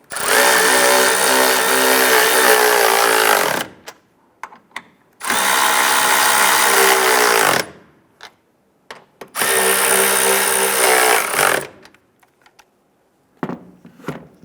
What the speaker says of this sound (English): Let's go ahead and snug down these upper strut nuts.